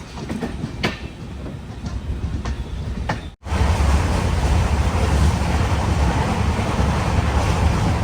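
The Kacheguda Murdeshwar Express arrives at Udupi railway station, rolling with steady rumble and a few sharp clanks, then a brief dip before a louder, denser wash of wheel and carriage noise.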